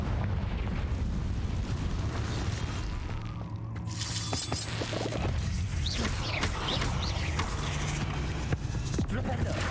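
Confringo fire spell blasts in Hogwarts Legacy, bursting and shattering loudly over a dense, continuous backdrop of game combat and other spell noise.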